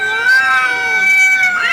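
A person's voice imitates a cat, giving a loud, close, drawn-out wavering meow that bends in pitch toward the end.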